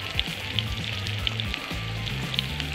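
Beef intestines (daechang) sizzle and spatter in hot oil on a solo camping stove, a steady crackling fry with sharp pops of spitting grease and a low bubbling undertone throughout.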